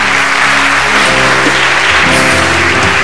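A large studio audience at a Ramadan game show claps loudly and steadily without pause, a dense wash of applause that fills the whole stretch.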